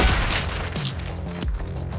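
Grenades exploding in the top-down shooter OTXO, with dense, crackling blasts and booming low thumps overlapping in a continuous barrage of gunfire and detonations.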